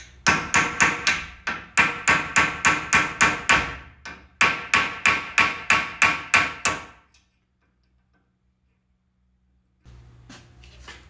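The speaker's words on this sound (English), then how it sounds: "I'm gonna see if I can't punch these pieces out individually or not." Hammer blows ring out as metal pieces are punched from a seized gear on an auger wagon. Two fast, steady runs of about a dozen loud, close strikes each are followed by silence and a faint clatter.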